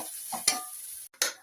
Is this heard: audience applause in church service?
no